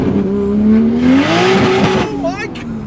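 A very fast car pulls hard in second gear on a road, the engine note climbing loudly from inside the cabin as occupants talk and exclaim over it.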